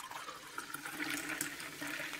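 Liquid pouring in a steady, continuous rush, sped up and slowed during playback so the flow shifts in pace, heard alone without any voices.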